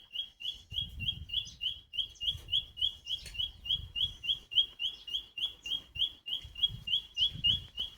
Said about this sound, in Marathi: काय मस्त गाणं गाऊ राहिला पक्षी